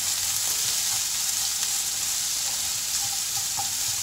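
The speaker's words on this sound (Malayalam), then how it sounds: "നല്ല പോലെ ഒന്ന് വഴറ്റാം." Onions for egg curry sizzle steadily as they are sautéed in a pan, a continuous close frying hiss with faint scraping of stirring and no voices.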